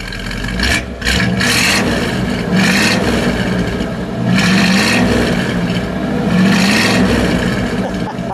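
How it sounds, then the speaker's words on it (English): A 1957 Chevrolet Bel Air Nomad station wagon engine revs loudly and close by outdoors, with several throttle blips rising and falling over a steady rumbling idle. "But listen to the sound. John, give it one little rev, would you?"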